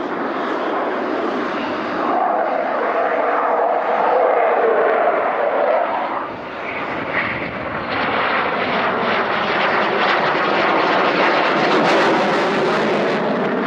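A loud Royal Air Force Typhoon roars overhead in an aerobatic display at Farnborough 2004, its engine noise sweeping and shifting in pitch as it passes nearby, steady and powerful throughout.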